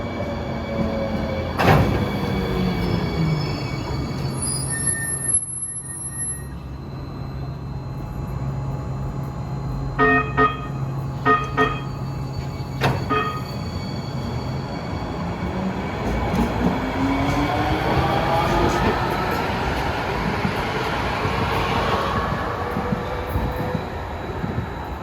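A Hoboken-bound Hudson-Bergen Light Rail train comes off a single track and passes, a steady rumbling roll with a brief high chime and a few sharp clanks partway through, growing into a broad whooshing swell near the end.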